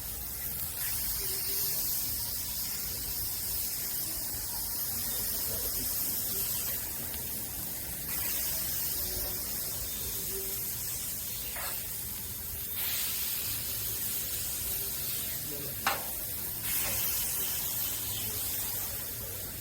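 A burger patty sizzles on a hot Vevor 36-inch propane griddle near 460 degrees, a steady loud hiss throughout with a few brief clinks of the spatula or smasher, no talking.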